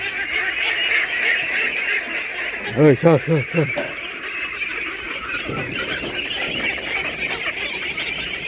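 Forty-five-day-old ducklings, just let out to feed, give a short burst of loud, close honking quacks midway over a busy outdoor background.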